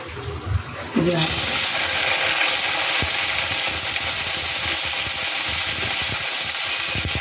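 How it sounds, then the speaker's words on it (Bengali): Potatoes hit a hot kadai of oil tempered with nigella seeds and break into a loud, steady sizzle after a brief bit of speech at the start. "এই যে কড়াইতে আলু দিয়ে দেবো"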